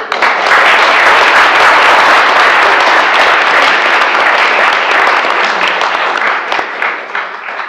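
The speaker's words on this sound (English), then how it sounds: "So, it's a round of applause for Phil Dibiase." Loud, sustained applause fills the room at a municipal reorganization meeting in Madison, New Jersey, a thick crowd of clapping hands that swells quickly and then eases slightly toward the end.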